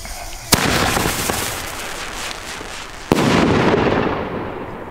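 Pyroland BKS 1 bomb tube fireworks burst outdoors in two loud, sharp bangs, each followed by a long crackling, rumbling tail, with no talking.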